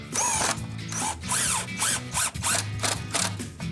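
A power drill drives screws into a window frame in a series of short, loud bursts, revving up and down with brief pauses between runs, close by.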